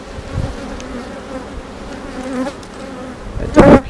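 Honeybees buzz steadily around a hive frame carrying queen cells as it is moved to another hive, a continuous close insect drone that swells louder near the end.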